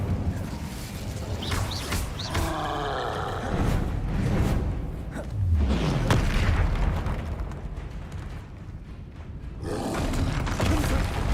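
Hogwarts Legacy duel: an Incendio fire spell erupts in roaring, booming blasts mixed with other spell bursts, loud and close, coming in several surges with brief lulls between them.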